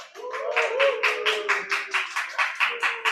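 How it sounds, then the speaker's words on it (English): Audience at a Toastmasters club meeting in Jakarta claps in a steady rhythm for about three seconds, with a soft voice running underneath. "please give a round of applause"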